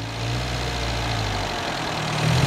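A 1955 MG TF's small engine runs steadily at idle, a low continuous drone close by with a slight rise near the end and no talking.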